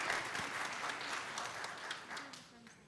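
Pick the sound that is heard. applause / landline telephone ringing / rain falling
applause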